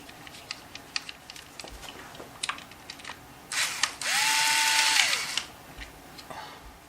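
Ratchet with an 8mm deep well socket loosening a nut on a stud while changing spark plugs on a Mazda 3; faint scattered clicks, then a short louder whirring burst close by, with no talk.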